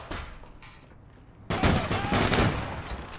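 Gunfire from the online shooter APB Reloaded, dense overlapping bursts of shots that grow abruptly louder and more continuous halfway through, with no talk over them.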